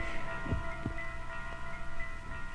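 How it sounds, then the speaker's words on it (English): A muffled heartbeat sound effect from a 1972 ghost story record thumps low and soft, a few dull beats under a steady hum. "the heart beat on with a muffled sound"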